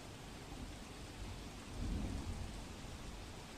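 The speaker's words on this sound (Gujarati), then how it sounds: "મેઘરાજા મન મૂકીને વરસી રહ્યા છે" Heavy monsoon rain pours steadily in rural Dang district, Gujarat, with a low rumble of thunder swelling midway through, all with no voices.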